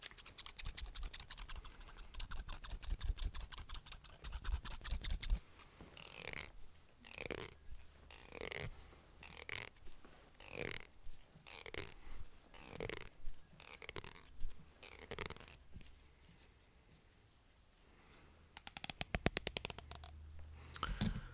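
Scissors snip through hair during an ASMR haircut, close up and soft. A fast burst of crisp clicks is followed by a run of slower, evenly spaced snips, a quiet pause and then another quick flurry.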